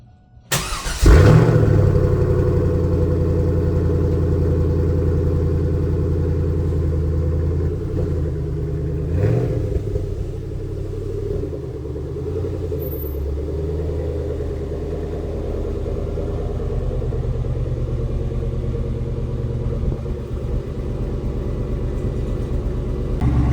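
Car engine starting from cold, then rumbling steadily and loudly as the car pulls out of a garage, a low continuous drone with a brief swell midway, with no speech.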